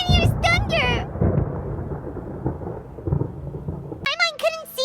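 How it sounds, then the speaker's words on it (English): Thunder in Genshin Impact rolls as a long, low rumble through the middle of the clip, with rain-like hiss underneath and short bursts of speech before and after it. "Paimon hears thunder!"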